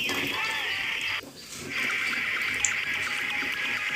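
Water pours steadily into a glass in a gentle hissing stream, breaks off briefly, then resumes, with faint voices in the background.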